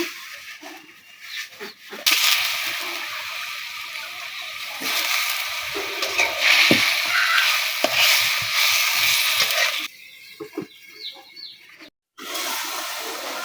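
Pangas fish frying in a cooked-down spice paste, a loud, continuous hissing sizzle that swells and fades, broken by a few sharp clinks and a brief pause near the end.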